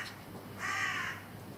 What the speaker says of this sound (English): the squawks of the birds